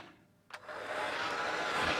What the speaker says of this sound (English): Take your best garage hairdryer